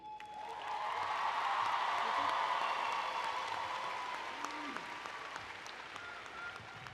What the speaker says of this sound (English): Let's give a round of applause to the graduates for their dedication to succeed.